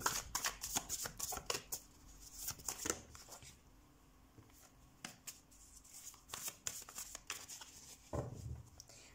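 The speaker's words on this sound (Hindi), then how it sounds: "सबसे पहले हम कार्ड शफल कर लेते हैं आपके लिए।" Tarot cards are shuffled by hand in several quick riffling bursts with short pauses between them, close and fairly quiet.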